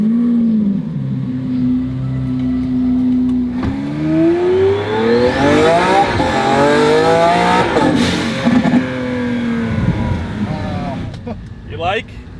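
A twin-turbo Lamborghini Aventador pulls hard through first gear, its engine note climbing in pitch as it accelerates, with voices heard over the roar.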